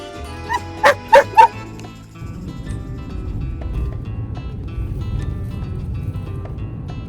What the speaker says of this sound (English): Every time he has something to eat, she barks because she wants some.